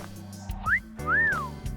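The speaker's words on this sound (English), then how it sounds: "I thought I told you to stop with the wolf whistles." Two rising-and-falling wolf whistles in AI: The Somnium Files, a short upward sweep followed by a longer arched one, clear and up front over a low steady game background hum.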